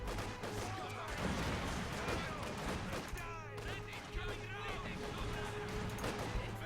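Rifle fire crackles in the World War II strategy game Company of Heroes 2 amid a dense, continuous battle din of shots and explosions, with a commentator's voice running underneath.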